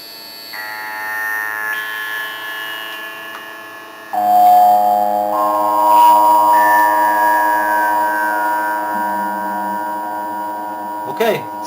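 Modular synth saw oscillator feeding a 24 dB bandpass filter swept by a slow LFO, steady buzzing tones whose pitch and brightness shift in stages, with a louder section partway through and a brief click near the end.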